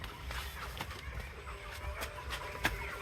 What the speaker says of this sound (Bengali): এ হচ্ছে আমাদের মুরগির শেডের অবস্থা বর্তমান